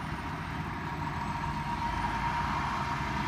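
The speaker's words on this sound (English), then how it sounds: "Don't hit me, dump truck." A dump truck rumbles past on a road near Grand Junction, Colorado, its steady engine drone and road noise filling the air without a break.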